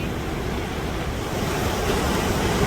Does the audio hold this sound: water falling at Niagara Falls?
yes